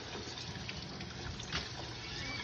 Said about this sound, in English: Okay, so I'm going to go ahead and start running my water.